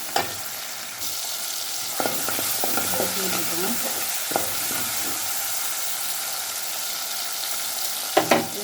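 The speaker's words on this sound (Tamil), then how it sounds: "இது நல்லா தக்காளி வெங்காயம் நல்லா வதங்கணும்." Tomatoes and onions sautéing in a pan for a Thanjavur tamarind kuzhambu, a constant close sizzle with a cluster of stirring scrapes and clinks in the middle and a few louder knocks at the end.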